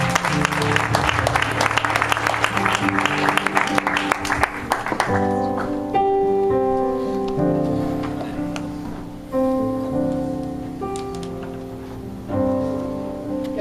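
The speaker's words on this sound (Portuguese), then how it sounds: "Você pode dar uma salva de palmas para ele" A church congregation breaks into applause over sustained music for about five seconds, then the clapping fades and the music carries on alone.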